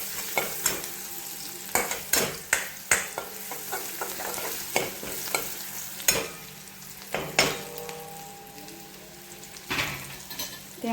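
Onions frying in a pan, stirred with a spoon that scrapes and taps the metal in a steady series of sharp strokes over a continuous sizzle, close and clear with no talking.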